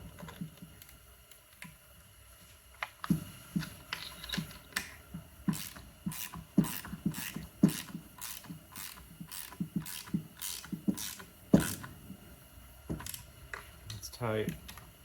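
A fitting is tightened on a lure coursing machine, giving a long run of sharp ratcheting clicks and mechanical clacks in irregular bursts, close and fairly quiet.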